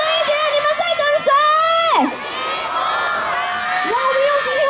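A crowd at an outdoor evening concert opening a light festival in Fengshan's Dadong Park screams and cheers loudly and continuously, with a shouting voice carrying over the noise.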